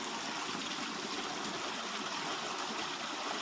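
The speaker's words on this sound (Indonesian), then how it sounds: "Tadi airnya dibuang, dikuras. Nah, itu airnya dikuras" Water pours and rushes steadily as a water intake tank of a rural Pamsimas village water supply is drained for routine cleaning, a continuous loud splashing flow from start to end with no talk.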